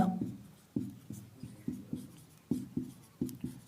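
Chalk or marker strokes on a classroom board during a Hindi biology lesson on blood plasma, a steady series of short scratchy taps roughly every quarter second, close and clear with no talking over them.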